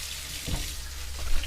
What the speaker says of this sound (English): Give them a rinse